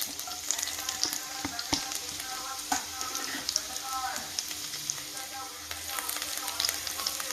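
Chopped garlic and grated ginger fry in a mix of oil and ghee, giving a close, crackling sizzle with frequent sharp pops and light stirring throughout.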